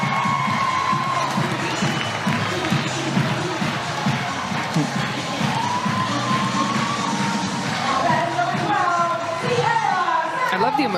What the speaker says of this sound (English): now the crowd's getting into it